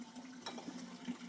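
Tap water runs while wine bottles are rinsed, a faint, brief splashing and trickle.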